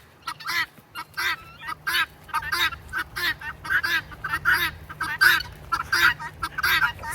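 Fowl, likely geese, call in a steady run of repeated honks close by, the harsh cries overlapping in uneven bursts with no talk over them.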